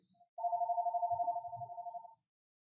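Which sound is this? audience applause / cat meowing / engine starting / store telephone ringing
store telephone ringing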